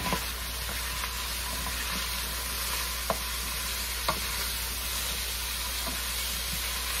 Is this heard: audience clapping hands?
no